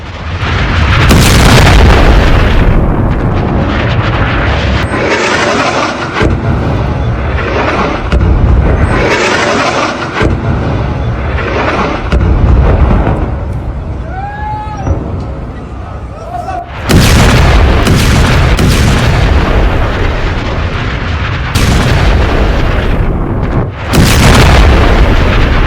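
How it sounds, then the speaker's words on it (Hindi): Loud, heavy blasts from Israeli strikes in Lebanon boom one after another, with buildings collapsing. Dense roaring rumble fills the whole stretch, with short dips between the bursts and a few whistling tones partway through. "एक के बाद एक कई धमाके हुए"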